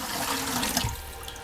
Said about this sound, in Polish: zalejemy to, słuchajcie, trochę wody